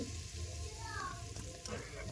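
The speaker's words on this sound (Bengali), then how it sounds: "এখন লাল লাল করে ভেজে নেব আলুগুলো" Potato pieces fry in a kadai during a home morning cooking session, giving a soft, steady sizzle and crackle that stays faint but continuous throughout.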